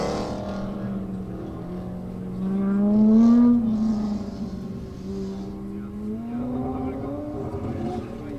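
A Ford Mustang at an autocross sweeps past with a distinctive exhaust, its engine note climbing and peaking as it draws near, then falling away in a steady drone.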